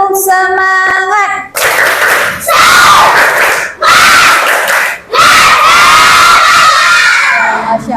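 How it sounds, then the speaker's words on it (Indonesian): A class of fifth-grade primary school children in Indonesia performs a loud, rhythmic spirit clap-and-shout chant, with bursts of shouted words and sharp clapping that break off in short pauses, crowded and close. "Coba ibu tes dulu semangatnya. Tepuk semangat."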